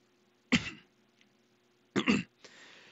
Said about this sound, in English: sorry if I cough, honey. I think I'm choking on water or something